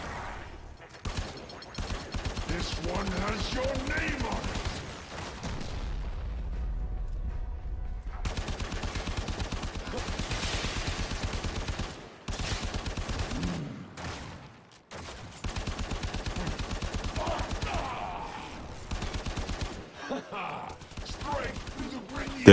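Gunfire in a video game boss fight against Captain Vor, shots fired from cover: loud, dense bursts of fusillade and machine-gun fire filling most of the stretch, with brief pauses and game effects between volleys.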